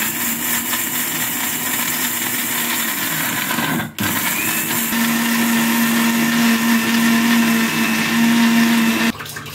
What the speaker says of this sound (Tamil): கொஞ்சோண்டு தேங்காய், ஒரு பிஞ்சு பட்டை, ஒரு துண்டு ஜாதிக்காய், 2 ஸ்பூனு சீரகம், 1/2 ஸ்பூனு சோம்பு இதெல்லாம் போட்டு அரைச்சிடலாம்.